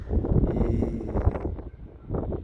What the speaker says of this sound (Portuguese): E hoje ventando muito, pessoal.